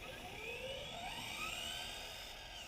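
Traxxas Mustang RC car on LiPo power at full throttle, a steady high-pitched electric motor whine with rising tone, loud and close throughout, no talking.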